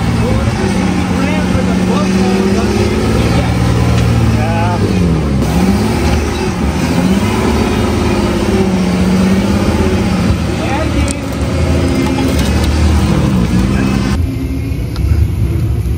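A trail buggy engine revs loud and close on a rough rock-crawling trail, its pitch swinging up and down repeatedly, with people talking briefly over it.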